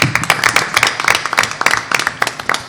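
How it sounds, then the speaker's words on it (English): Dense, lively clapping from an audience at a board of education meeting, greeting school staff and administration with a steady burst of applause that fills the room without any talk. "Let's give them a round of applause as well."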